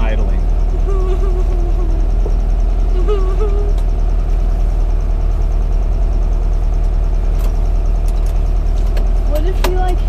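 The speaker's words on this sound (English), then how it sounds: "Good, just let it go, and it'll just idle like that," A 1968 Volkswagen Beetle engine idles with a loud, steady low rumble throughout, with voices faintly audible over the hum.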